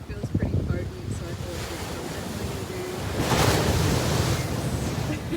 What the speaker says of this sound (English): you can see the waves crashing